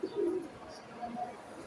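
Silver-winged (silver pankhi) pigeons give brief low coos, close and fairly quiet, with no talking.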